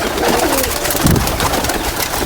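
Pigeons perched on a house roof, males that have flown in to the breeders' loft and are displaying, give throaty coos over a steady, fairly loud background with a denser burst around the middle.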